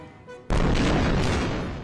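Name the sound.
gunfire and shelling explosions in Gaza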